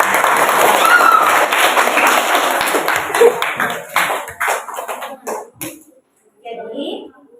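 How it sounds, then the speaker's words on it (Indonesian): Seventh-grade students in a science classroom clap together in a brisk burst of applause that thins out into a few scattered claps before falling silent, followed by a brief spoken voice. "tepuk tangan dulu"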